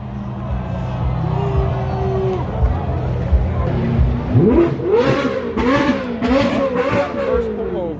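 Straight-piped BMW M4 F82 with a loud exhaust, heard from inside the car as it idles with a low drone, then revs hard in several sharp, rising bursts with crackles on a busy street, with people talking nearby.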